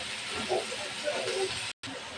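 Bitter gourd tips into a pan of frying onions, raising a loud, steady close sizzle of hot oil that drops out for an instant near the end, then resumes.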